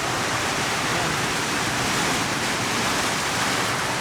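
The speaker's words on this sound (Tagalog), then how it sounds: "Sobrang lakas ng ulan." Heavy tropical downpour in the Philippines: a dense, even roar of rain close by, unbroken and loud throughout, with no talk over it.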